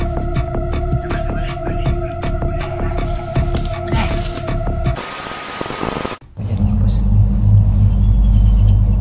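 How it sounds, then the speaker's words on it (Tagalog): A horror video game plays a low rumbling engine drone with hum and static, broken by a sudden cut into a louder, heavier rumble, while a person speaks over the game audio. "Lumalakas na naman yung mga tunog ng sasakyan."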